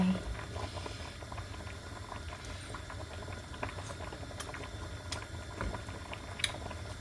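A pot of spicy coconut milk curry sauce with fish sauce bubbles at a steady simmer, giving a soft continuous boiling patter with occasional small pops. Someone talks quietly over it.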